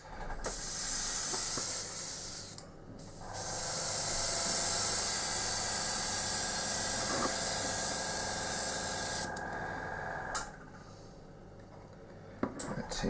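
An airbrush sprays paint onto MDF terrain in steady hissing bursts: a short spray, a brief pause, a long continuous hiss, then a softer stretch and a few quick final puffs.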